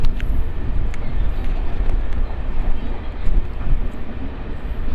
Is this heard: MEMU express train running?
yes